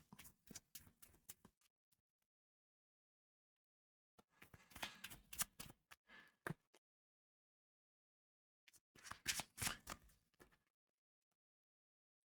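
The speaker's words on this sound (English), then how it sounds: "Give these a shuffle again." A deck of game cards for a solo Arkham Horror card game is riffled three separate times, each a brisk close burst of crisp fluttering clicks and snaps, separated by silent pauses; no talking.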